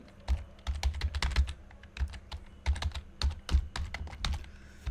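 Rapid typing on a computer keyboard while an Indian passport application form is filled in at a CSC centre: close, uneven bursts of crisp key clicks with short pauses, and no voices.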